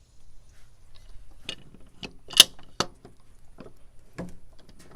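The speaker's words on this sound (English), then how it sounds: "Now we're going to use our pipe wrench to loosen our pipes connecting to the filter head." Pipe wrench working loose the plumbing pipes on a pool sand filter head, heard as scattered sharp metallic clicks and taps with quiet gaps between them, close by and without talking.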